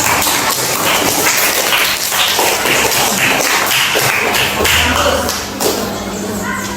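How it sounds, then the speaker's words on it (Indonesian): A classroom group claps together in a quick, scattered patter of applause that runs for several seconds before tapering off. "berikan tepuk tangan."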